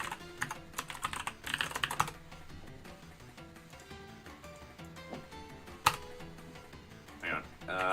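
A computer keyboard clatters in quick bursts of typing separated by pauses, with a few louder isolated key presses. Someone talks throughout.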